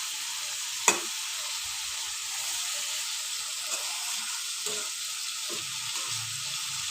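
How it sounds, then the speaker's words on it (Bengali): Spice paste frying in a pan together with hilsa fish and fish roe; a steady, fairly loud sizzling hiss throughout, with one sharp knock early and a few soft stirring scrapes. "দেখতে পাচ্ছ মশলাটাকে ভালো করে ভেজে নিচ্ছি।"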